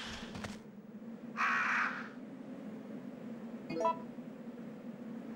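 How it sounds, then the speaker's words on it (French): Crow caws inside the game Resident Evil 3 Nemesis: a short burst, then a longer harsh call and a later clipped caw, heard over a steady low ambient drone. "Attends, le corbeau, fais pas chier."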